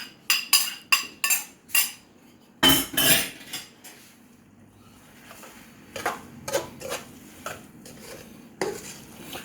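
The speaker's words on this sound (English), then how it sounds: "when it's almost ready, you add in your shredded carrots" A spoon scrapes and clanks against a pot as shredded carrots go into chicken fried rice, giving a string of sharp metallic knocks and clinks, loud and close, with brief pauses between bursts.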